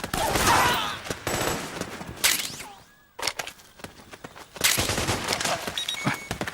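Suppressing gunfire in the stealth game Metal Gear Solid 4: bursts of automatic rifle fire in several loud volleys separated by short gaps, with sharp cracks and scattered echoes.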